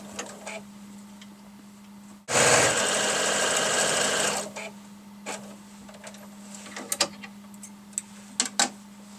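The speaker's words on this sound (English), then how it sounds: "I'm now sewing the second side of one of the long strips" Sewing machine stitching long fabric strips for a small art quilt, one close fast burst of about two seconds, then light clicks and handling over a steady low hum.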